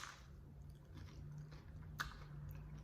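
Crusty, toasted bread of a Cuban sandwich with ham crunches while being chewed, soft close mouth sounds with one sharper crisp bite partway through, no talking.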